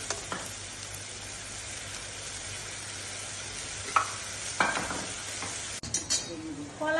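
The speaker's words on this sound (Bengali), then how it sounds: "মরিচ দিলাম, মরিচের পাউডার মিশালাম, নাড়াচাড়া করে মিশাবো।" Chili powder is stirred into a frying pan of sizzling oil for a raw banana curry, giving a steady hiss broken by a few spatula scrapes and clinks against the pan.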